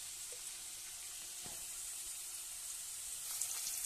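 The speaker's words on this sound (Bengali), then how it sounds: "একদম ঝুড়ো ঝুড়ো করে ভেজে নেবো পেঁয়াজটাকে ভালো করে।" Onions frying in oil in a wok to make crisp fried onions for biryani, giving a steady, fairly quiet hiss of sizzling that brightens slightly near the end, with no voices.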